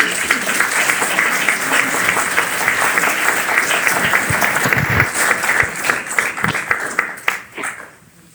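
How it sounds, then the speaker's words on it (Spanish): Sustained applause from a church congregation at a Catholic Charismatic Renewal gathering, steady dense clapping with crowd murmur that continues for several seconds before tapering off near the end. "Le dan un aplauso al Señor por su palabra."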